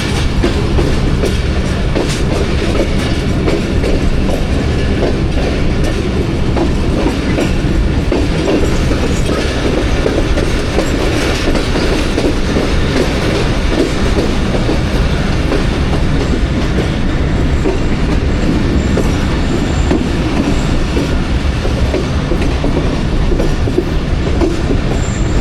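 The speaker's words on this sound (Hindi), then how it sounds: "और झेलम रेलवे स्टेशन पहुंच गई है ट्रेन हमारी" A train rolls into Jhelum railway station on the Rawalpindi to Lahore line, with loud, sustained rumbling and rhythmic clickety-clack from the wheels, plus occasional squeal, heard up close with no speech.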